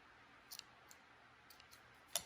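Scissors snipping yarn plies for a rigid heddle towel, a few faint, sharp clicks scattered over a quiet room, ending with one louder, crisper snip.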